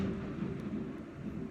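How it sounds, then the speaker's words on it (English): Outer-band thunderstorm of Hurricane Dorian as a steady, low, rumbling roar of wind and rain, loud and continuous, with no voices. "But this storm is pretty crazy."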